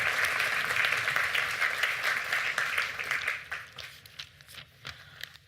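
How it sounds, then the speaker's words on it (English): An audience at an awards ceremony gives a round of applause, dense clapping that thins out into scattered individual claps over a few seconds. "Give them a round of applause."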